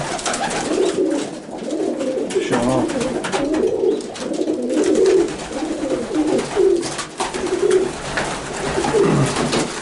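Many pigeons cooing and burbling together at close range in an aviary, a continuous layered chorus with some rustling and faint talk in the background.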